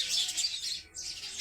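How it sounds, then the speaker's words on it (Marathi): Small sparrow-like birds twitter and chirp continuously on a cold early winter morning, a dense bright chorus at moderate distance with a brief lull partway through, and no voices. "पाखरं एकदम चिव चिव चिव चिव करू राहिले सकाळी सकाळी"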